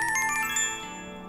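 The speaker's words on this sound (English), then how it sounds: "I barely register the quiet melody of a ringtone" Brief phone ringtone melody playing inside a convenience store, a few bright, bell-like tones in quick succession that ring out and then fade, fairly clear and close with no voices over it.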